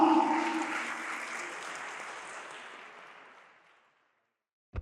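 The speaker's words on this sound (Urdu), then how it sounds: "آپ کی بھرپور تالیوں میں" Loud applause from a conference audience at the International Iqbal Conference that gradually fades away over a few seconds, followed by a brief silence and a sharp knock.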